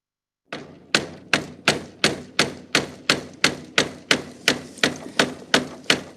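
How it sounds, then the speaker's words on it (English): A hammer drives a nail into a piece of wood during a Yom Kippur closing ritual, sounding as about fourteen sharp, evenly spaced, close thuds at a steady rhythm, with no talking. "The custom of hammering a nail into wood at the end of Yom Kippur is a new one to our family."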